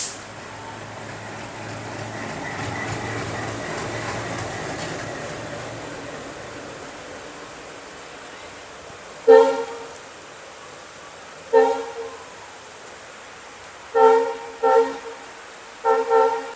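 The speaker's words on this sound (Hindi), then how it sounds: "वही वापस से जा रहा है पीछे की साइड कपल होने अपनी ट्रेन में" An ALCO WDM3A diesel locomotive on the Nagaland Express at Dibrugarh, moving back to couple with its train: a low engine rumble fades, then several short, loud horn toots sound in bursts.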